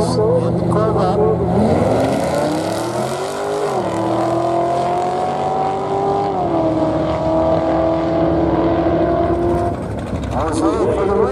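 A Camaro and a Corvette race down Barona Drag Strip, their loud engines revving and climbing in pitch, then easing and holding before revving again near the end.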